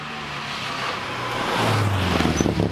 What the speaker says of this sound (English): So what you can see here is the car has arrived at a checkpoint to get a signature from the marshal.